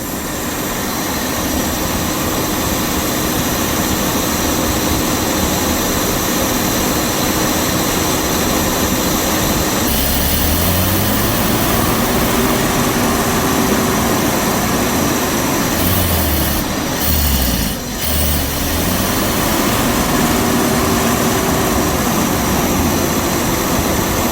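A 1976 Jaguar XJ6 Series 2 engine idling, a steady, smooth low rumble that runs continuously and loud throughout, with a brief dip and some shifting tones partway through.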